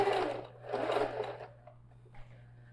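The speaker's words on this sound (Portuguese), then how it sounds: "Que é uma costura mais grossa, eu posso ir devagar." Sewing machine running over a thick seam in a backpack lining, two close bursts of steady whirring stitching with a short pause between, then slowing to a quiet hum and faint clicks.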